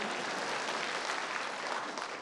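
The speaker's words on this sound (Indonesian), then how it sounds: "Tepuk tangan untuk perempuan." Applause from an audience at a televised Indonesian forum on vocational training: continuous, fairly faint clapping from many hands at an even level throughout.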